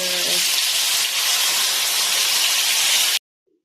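Loud, steady sizzle and hiss as water hits pork frying in a hot pan for pan pork barbecue, a broad wash of spitting noise that holds for about three seconds before cutting off abruptly to silence.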